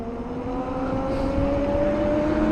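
An electric bike motor pushed to full throttle, a steady whine climbing slowly in pitch over rushing wind noise, loud and close, with no voices.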